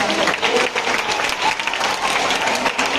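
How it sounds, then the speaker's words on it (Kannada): School audience at an investiture ceremony applauding a correct quiz answer, a loud, continuous burst of many hands clapping together for several seconds. "ಜೋರಾಗಿ ಚಪ್ಪಾಳೆ."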